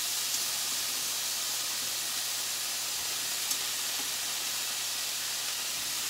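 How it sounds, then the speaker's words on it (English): Chickpeas and spinach sizzle in a hot pan with a steady, even hiss that stays soft and continuous throughout, close by and with no talking. "Ooh, sizzle, sizzle, sizzle,"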